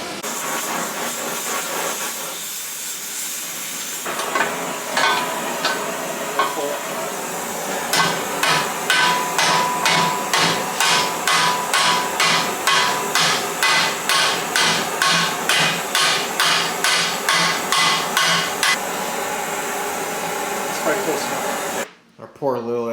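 Rapid metal hammer taps straighten a bent bumper bar on a dirt track race car, a long steady run of evenly spaced strikes close by against a hissing workshop background, with some talk underneath.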